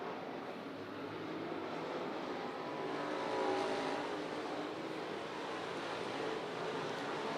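USRA stock cars race around a dirt oval in a feature event, a continuous distant roar of several engines swelling and fading as the pack passes, with no talk.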